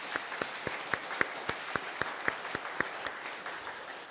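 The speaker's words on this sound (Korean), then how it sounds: "하나님을 향하여 영광의 박수 올리겠습니다" A church congregation at a Sunday service claps in unison, a steady rhythmic beat of sharp, evenly spaced claps over a continuous wash of applause.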